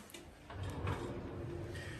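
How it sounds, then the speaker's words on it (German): A Römertopf clay pot slides back into a hot oven with a short scrape and a soft, close thump, followed by a steady low rumble of the oven with no voices. "Und der geht jetzt wieder ab in den Ofen."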